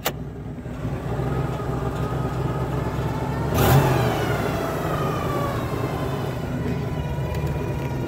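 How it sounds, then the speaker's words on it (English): A car engine runs steadily with a faint transmission whine under it, the drone holding level and swelling briefly midway with no voices. "So you start it. You can hear that whining a little bit."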